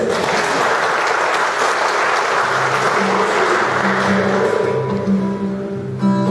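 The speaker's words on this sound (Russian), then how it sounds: "Аплодисменты." Loud, dense applause from a large festival crowd, sustained and then tapering off toward the end as a voice begins.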